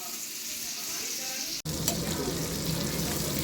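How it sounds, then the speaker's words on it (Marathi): Tarli fish and prawns shallow frying in a pan give a steady close sizzle, with a short break and then a louder, rougher crackle as frying continues. "बघा मच्छी फ्राय होतच आहे"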